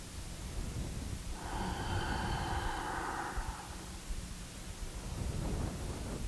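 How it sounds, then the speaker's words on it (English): Ujjayi yoga breath, a slow, ocean-like hiss of air drawn through a narrowed throat, rising and fading once over about two seconds during a calm yoga class, with quiet low rumble around it and no talking. "Breathing with the Ujjayi breath that sounds just like the calming ocean."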